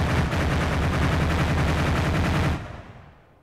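A weapon firing on full automatic in the Arma video game during a Cold War special: a loud, continuous rapid burst of gunfire lasting a couple of seconds, then cutting off into a fading echo.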